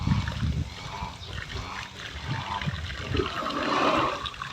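Water splashes and pours over an elephant being washed, a steady wet splattering with sloshing bursts throughout, fairly close and continuous.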